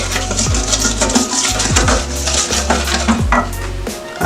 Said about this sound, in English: By the way, my whisk is made from bamboo